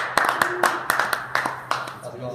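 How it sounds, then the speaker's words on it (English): A handful of people clap for a senior wrestler at an informal gathering, sparse, separate claps at close range in an irregular rhythm, with a low hum and faint voices underneath. "Applause."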